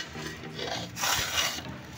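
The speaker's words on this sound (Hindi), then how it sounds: "दाऊ चम्मच चला रहे" A spoon scrapes and stirs chickpeas roasting in desi ghee, a close, soft rasping and rubbing against the pan, rising briefly louder midway through two seconds.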